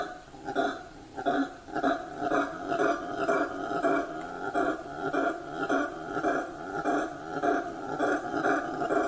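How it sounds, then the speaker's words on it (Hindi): Deep, roaring howler monkey calls in the Amazon rainforest pulse in a repeated rhythmic chorus, moderately distant, with no voices over them. "हाउलर बंदर अमेज़न वर्षावन के सबसे तेज आवाज करने वाले जानवर है"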